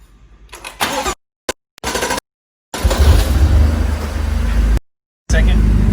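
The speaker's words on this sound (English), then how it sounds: "My wife's gonna go ahead and start the car." A 2015 BMW M4 with the S55 engine starts after intake valve cleaning: brief cranking bursts broken by silence, then the engine catches into a loud, steady running roar, cut by a short gap before continuing.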